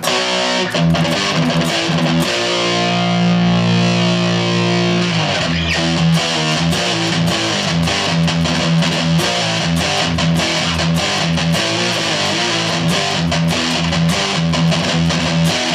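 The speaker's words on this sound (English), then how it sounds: "adds like a really nice, thick, heavy distortion" Loud, thick distorted electric guitar playing heavy chords and riffs continuously through a metal amp setting, with sustained notes and chugging palm-muted rhythm.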